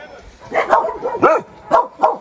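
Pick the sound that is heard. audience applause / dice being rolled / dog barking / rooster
dog barking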